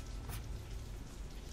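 Heavy rain makes a dense, even hiss and patter with a low rumbling undertone, steady and quiet throughout the short stretch with no voices.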